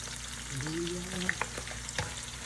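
Ginger hits hot oil in a pan for ginataang langka, giving a close, steady sizzle with a few sharp clinks of stirring, no talk over it.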